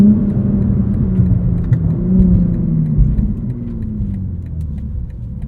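A 2023 BMW M4 CSL driven on the street, its engine and road noise heard from inside as a loud, steady low rumble and whir, with a slight rise in revs around the middle and no talking.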